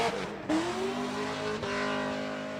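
An S14 Formula Drift car drifts loudly at a Las Vegas night event, its engine droning with rising and falling pitch, joined by broad tire-skid noise that swells near the middle and carries on without a break.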